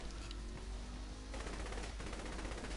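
Dense automatic gunfire from the video game Saints Row: The Third rattles on without pause, a loud, continuous stream of rapid shots with no voices over it.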